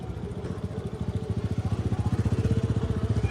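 Motorcycle engine idling and puttering close by while being parked near a gurdwara market, a steady rapid thumping pulse that grows slightly louder and more even toward the end.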